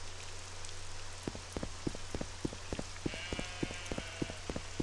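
A goat in the game Myar Aranath bleats in a short wavering call over steady rain pattering on a surface, with a regular rhythm of drops ticking throughout.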